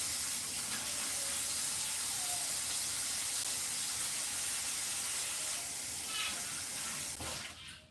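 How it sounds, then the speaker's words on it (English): Tap water runs continuously while hands are washed beneath it, a steady close hiss that fades out at the end. "Let me wash my hands real quick."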